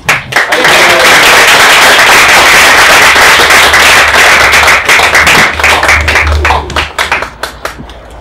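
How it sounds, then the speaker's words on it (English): A crowd applauds loudly and steadily, dense clapping sustained for several seconds before thinning into scattered claps at the end. "please everybody give a warm round of applause"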